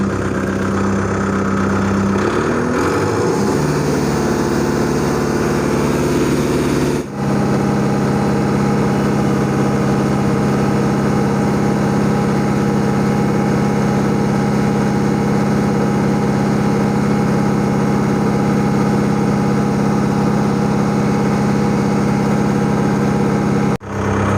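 A Kubota 5502 tractor with a 55 hp engine idles steadily and loudly up close, a constant low drone with a brief dip partway through and no talk over it.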